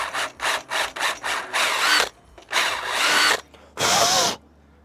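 A power drill with an 8mm bit bores into wood close by while building campervan cabinets: five short bursts, then longer grinding runs, the motor whining and the bit chewing through timber.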